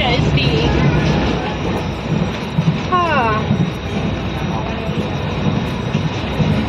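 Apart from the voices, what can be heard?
passenger train running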